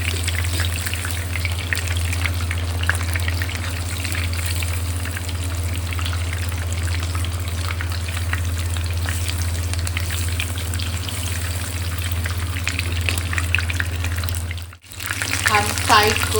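Mutton chapli kabab fries in hot oil with oil spooned over the top, giving a dense, continuous close sizzle and crackle with a steady low hum beneath and a brief dip near the end; a person talks quietly over it.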